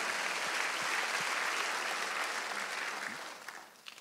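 A church congregation at a Wednesday worship service claps together in a broad, sustained burst that holds steady, then thins and fades toward the end, leaving a few scattered final claps.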